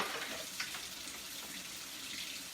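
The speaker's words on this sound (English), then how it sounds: "So, gotta run some water." Water runs from a tap at a sink in a steady, moderately loud hiss and spatter, continuous and close, with no voices.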